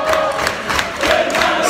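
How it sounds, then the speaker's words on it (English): Football crowd at a Peterborough versus Gillingham match letting out a loud, sustained sarcastic cheer after a shot on target, a dense wash of many voices rising and swelling in waves. "Some sarcastic cheering as they've actually had a shot on target."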